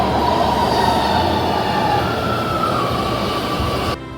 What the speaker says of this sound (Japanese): 徒歩だと少しだけ遠いので地下鉄に乗ってみます。